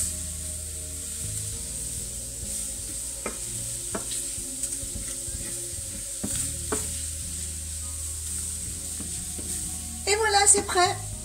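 Shrimp sautéing with garlic and parsley in a pan, a steady sizzle with scattered scraping stirs and clicks, growing busier and louder near the end.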